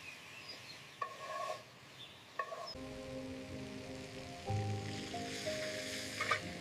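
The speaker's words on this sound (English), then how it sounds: "If you stir continuously, the filling will thicken slowly." Cake filling for a Vietnamese baked cake simmering on low heat in a pan while being stirred, a faint soft sizzle and bubbling with occasional scraping clinks of the utensil.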